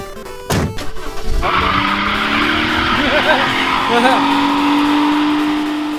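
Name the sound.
car taking off sound effect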